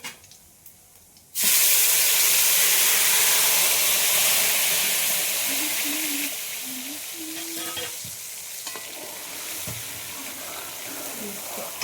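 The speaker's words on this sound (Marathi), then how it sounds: "ग्रेव्ही परतून घेऊया तेल सुटेपर्यंत." Chole gravy sautéing in hot oil in a pan makes a loud, sudden sizzle that settles into steady frying noise with stirring, fading slightly midway, while a voice speaks briefly over it.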